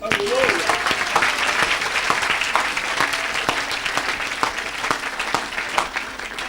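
A church congregation applauding at an evangelist's healing service, sustained dense clapping from many hands with scattered sharp claps, joined by a voice and crowd noise.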